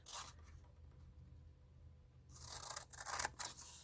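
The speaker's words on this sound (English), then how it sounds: "the first thing I'm going to do is cut my side. So I'm going to cut up that." Scissors cut through the side of a decorative card box tray scored at 1 and 2 inches, giving a close snipping and crunching sound with a short cut early on, then a longer run of cuts toward the end.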